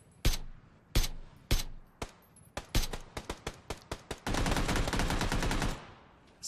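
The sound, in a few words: suppressed AR gunfire in PUBG video game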